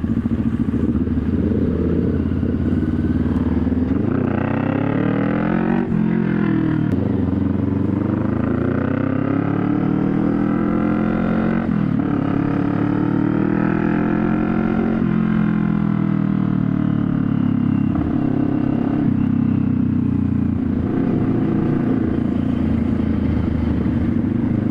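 A Kawasaki NK400 motorcycle fitted with a new exhaust pipe revs up and down steadily for about 25 seconds, its loud engine drone rising and falling with throttle blips and no voices over it.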